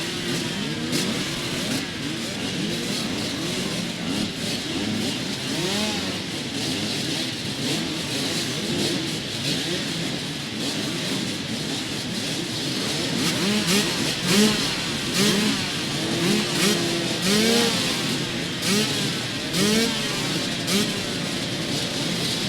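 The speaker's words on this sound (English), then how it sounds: "So they're going to start and warm the engines now." Race boat engines start and warm up before an H2O powerboat racing round, a steady mid-pitched motor drone with revving swells and rising throttle bursts, continuous and fairly close throughout.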